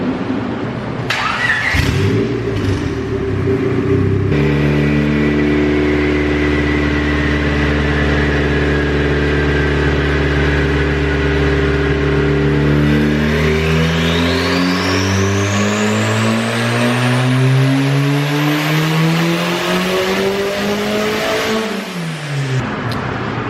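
A turbocharged Honda Civic with a D16Y7 engine and no VTEC revs on a dyno. It holds a loud buzzing note, then climbs sharply toward redline and drops off abruptly at the end.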